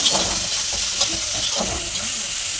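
Chowmein stir-frying in a kadai, a steady loud sizzle and hiss of frying noodles with a few scraping stirs, close by and with no talk.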